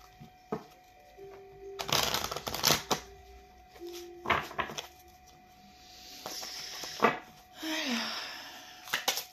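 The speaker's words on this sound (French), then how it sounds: "On mélange un petit peu les cartes." Tarot cards being shuffled during a reading, several bursts of riffling and sliding paper with quiet pauses between, close by with faint tones in the background.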